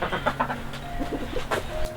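Chickens loose on a small homestead farm cluck and murmur softly and continuously close by, with short repeated calls over outdoor background noise.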